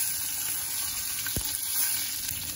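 Shallots sizzling in oil with hing and cumin, a loud, steady close-up frying hiss with a brief sharp pop near the middle.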